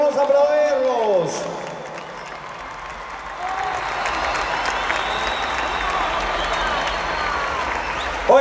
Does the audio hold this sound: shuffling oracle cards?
no